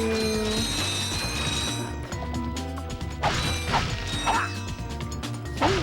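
Video game sounds from Ratchet and Clank as bolts are collected: metallic clinking pickups, crashes, mechanical clatter and whooshes over a continuous music track, with no talking.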